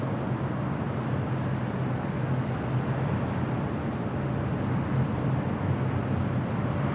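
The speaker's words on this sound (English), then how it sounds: "It's the Aeromexico Dreamliner heading back to Mexico City, taking off on 25 right there on the south side" An Aeromexico Boeing 787 Dreamliner takes off on runway 25 at LAX in east-flow operations, a steady, broad roar of jet engines rumbling continuously at moderate distance with no voices.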